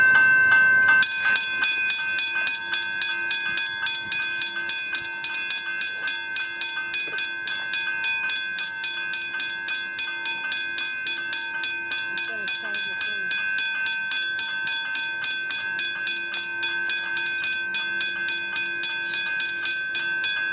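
A Westinghouse hybrid bell rings at the Royal Park railway crossing, a steady rapid clanging with bright metallic overtones repeating continuously and loudly throughout.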